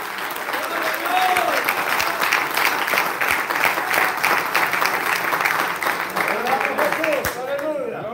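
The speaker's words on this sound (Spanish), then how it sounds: "qué aplauso más aguado de esos hermanos" Scattered, modest applause from a crowd, clapping steadily for several seconds while voices murmur underneath.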